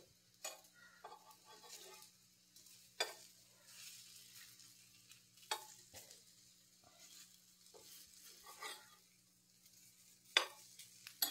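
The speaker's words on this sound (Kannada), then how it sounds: "ಈಗ ನಮ್ಮ ಪತ್ರೊಡೆ ಎರಡು ಸೈಡ್ ಚೆನ್ನಾಗಿ ಫ್ರೈ ಆಗಿದೆ" Patrode fry quietly in a pan with a low, faint sizzle. Sharp clicks and scrapes from the spatula come every couple of seconds, and no one speaks.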